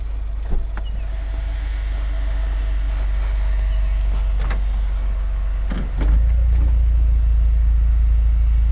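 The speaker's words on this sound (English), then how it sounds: "Has a really good sound to it. This is the stock exhaust." A steady low rumble from the stock exhaust of an idling 2019 Subaru WRX with a 6-speed manual, deepening and growing slightly louder near the end, with a few faint clicks and knocks on top.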